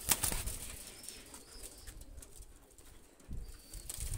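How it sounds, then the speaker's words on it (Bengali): Two Oman pigeons are let go and flap their wings in short bursts near the start and again near the end, with soft cooing and quiet background between. "দুইটা কবুতর আমি ছেড়ে দেখাচ্ছি দেখেন।"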